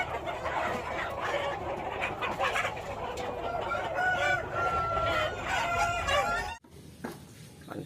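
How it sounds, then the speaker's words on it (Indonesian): A toy rooster gives a loud, continuous electronic crowing and clucking with harmonic tones, filling most of the stretch before cutting off abruptly near the end, followed by faint handling noise. "ini ayam jago"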